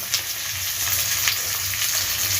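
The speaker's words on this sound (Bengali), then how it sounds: "এবার সামান্য একটু জল দিয়ে কষিয়ে নেব ভালোভাবে আরও পাঁচ মিনিট কষাবো" Spice paste sautés in hot oil in a pan, giving a close, continuous sizzle and crackle with soft stirring scrapes and no voices.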